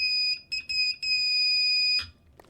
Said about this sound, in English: we are getting audio out of the buzzer